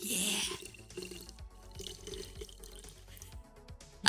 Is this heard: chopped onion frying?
no